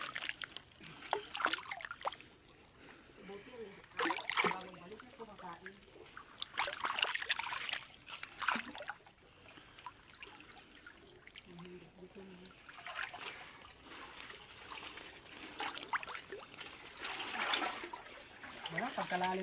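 Water trickles and splashes in shallow water, with intermittent light splashes as people talk loudly nearby throughout.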